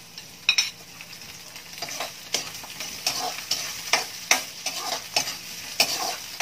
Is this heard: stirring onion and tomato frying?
yes